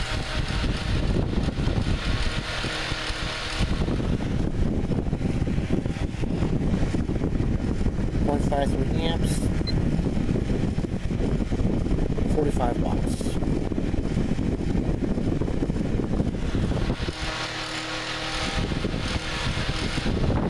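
A vintage Cinni electric fan running at its single speed gives a steady, even whoosh of blowing air throughout, fairly loud and close, with someone speaking briefly over it.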